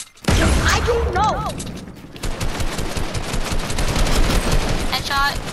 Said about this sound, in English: Headshot, one shot, Sky.